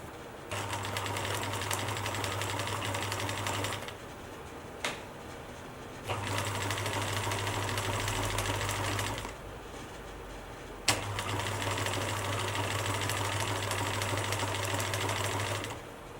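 A sewing machine runs a wide zigzag stitch to attach elastic onto underwear, in three long steady bursts of rapid mechanical whirring separated by short pauses, close and clear with no talking.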